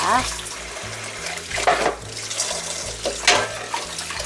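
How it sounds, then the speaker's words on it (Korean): Tap water runs steadily as zucchini is rinsed under it, with short bursts of splashing as the squash is turned in the stream, over a background of faint low hum. "그 다음에 애호박을 깨끗이 씻어 보도록 하겠습니다"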